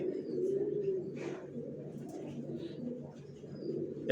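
Racer pigeons cooing steadily inside a loft, a dense low murmur of several birds continuing throughout, with a few faint higher chirps above it.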